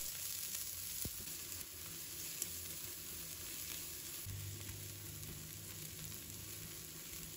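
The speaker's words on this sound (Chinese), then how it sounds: "油热之后，把葱蒜倒入锅里，把它炒出香味。" Scallions and garlic sizzle steadily in hot oil in a wok, a dense continuous frying hiss held close and even throughout, with no voices.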